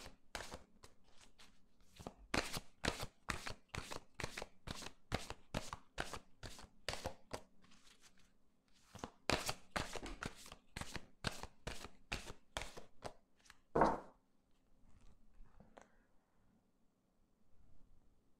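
Petit Lenormand cards shuffled by hand for a reading, with a long run of quick, crisp riffling bursts in steady rhythm, close and clear, ending in one sharp louder snap near the end and then quiet, with no talking.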